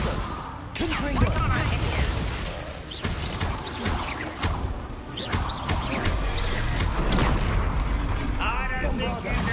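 Bombarda and Confringo spell blasts go off in a Hogwarts Legacy duel as booming, crashing impacts with whooshes. The noise is dense and continuous, with voices talking over the fight.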